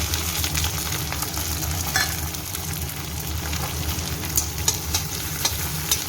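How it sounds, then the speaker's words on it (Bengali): Steady, close sizzling of onion and tomato frying in hot oil in a wok, a dense crackling hiss with occasional sharper pops and no voices. "কড়াইয়ে পেঁয়াজ টমেটোটা দিয়ে দিলাম"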